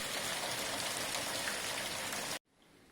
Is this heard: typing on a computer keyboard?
no